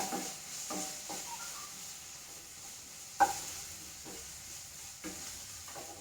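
Ginger-garlic paste is stirred in a pan for masala puttu, giving a low, soft sizzle with a few scraping strokes and one sharper clank of the spoon partway through.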